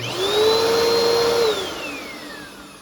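A Bissell Powerforce bagless vacuum cleaner running loudly with a high, steady whine, then the motor winds down and the whine falls away.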